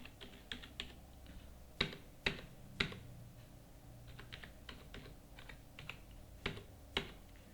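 Keys clack on a computer keyboard in scattered bursts of quiet taps, with a few sharper, louder strokes standing out, close and alone in a quiet room.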